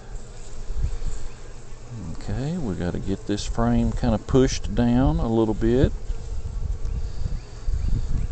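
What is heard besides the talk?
honey bees buzzing in a top bar hive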